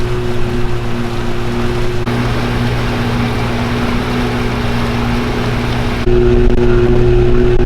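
A barrel raft's motor droning steadily on a river trip, a loud, even hum with a strong low tone that never lets up.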